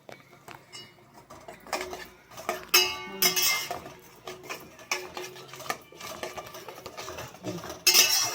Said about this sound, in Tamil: சின்ன வெங்காயம் அரைச்சி வச்சதை நல்லா சேர்த்துக்கிறோம்.